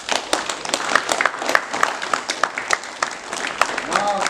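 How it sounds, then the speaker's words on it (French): A small audience claps for young recruits signing with the French army in the Somme, scattered distinct hand claps forming a modest round of applause before someone begins speaking. "je pense qu'on peut vous applaudir"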